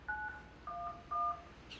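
Three short telephone keypad tones sound in turn as 911 is dialed, each a clear dual-pitched beep, fairly quiet and alone.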